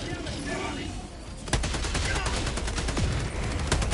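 Rapid automatic gunfire from the video game Helldivers 2 breaks out suddenly and keeps rattling in dense bursts, loud and close, with a voice talking faintly underneath.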